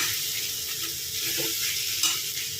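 Spice powders stirred into onions frying for beef mappas, a steady close sizzle with spoon scrapes against the pan and a brief clank near the end, no talking.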